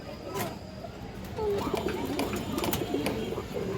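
A large pigeon at a pigeon seller's gives soft, low coos that carry steadily through the clip amid light background noise, with no clear talk.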